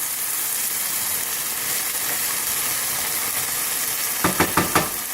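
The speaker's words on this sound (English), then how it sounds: "Let that sizzle and simmer for a little bit" Eggs and potatoes sizzle steadily in hot oil in a pan, a dense continuous hiss, with a quick burst of several sharp clatters near the end.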